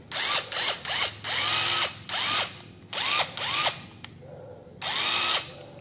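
A mini cordless drill body with a brake whirs close by in about eight short bursts, each spinning up sharply and then stopping abruptly, with no talking.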